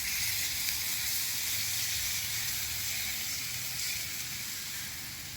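Fish frying in a pan with a steady, close sizzle and hiss that holds evenly throughout, fading slightly near the end as liquid gravy is added.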